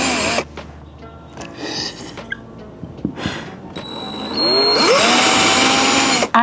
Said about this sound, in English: So we just need to drill.